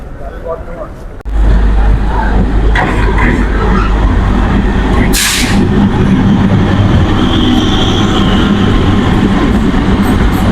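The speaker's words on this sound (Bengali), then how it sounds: "দুর্গাপুর স্টেশনের 4 নম্বর প্ল্যাটফর্ম থেকে কিন্তু ছেড়ে যাচ্ছে" The Sealdah MEMU Express, train 13180, pulls out of platform 4 at Durgapur station. A deep, loud rolling rumble kicks in after a second and carries on with rattling wagons, a sharp hiss midway and voices in the background.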